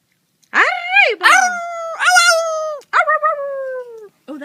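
A talking parrot mimics a wolf howl with several drawn-out, wavering tonal howls, close and loud, followed by a short final call. Short pauses separate the howls.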